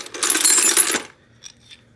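Metal combination wrenches jangle together in a bright metallic rattle for about a second as they are handled at a garage sale, followed by two small, faint clinks.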